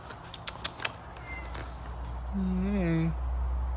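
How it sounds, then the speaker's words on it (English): A cat meows a few times, the cries rising and falling in pitch over a low steady hum, with light thumps and handling noise early on. "Meow meow."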